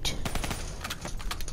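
Rapid automatic gunfire in the shooter game Call of Duty Black Ops III rattles in a dense, continuous burst of close, loud shots.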